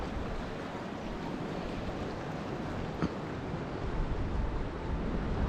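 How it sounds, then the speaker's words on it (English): Fast-moving river water rushes steadily near Tower Fall in Yellowstone National Park, a loud, continuous broadband roar mixed with wind buffeting the microphone. "And that's fast moving water, so be careful."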